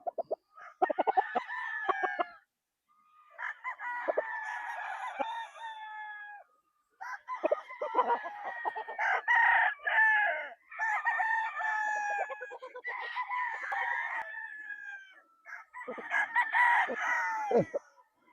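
Gamefowl roosters crowing repeatedly at a game farm, several overlapping crows in bursts with short gaps, fairly close and loud, with clucking between and no talk.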